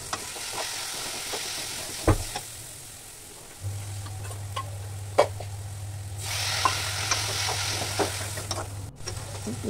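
Turmeric, chili, coriander and garam masala fry in a pan for aloo matar, a soft steady sizzle with scattered spoon clicks and scrapes and a low hum running beneath for much of the time.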